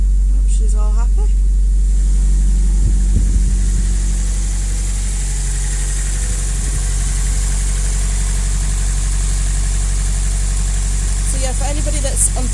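A 1999 Nissan Avenir GT4-Z with an SR20 engine and all-wheel drive idles after a cold start, a loud, steady, low engine drone with constant vibration, with brief voices near the start and end.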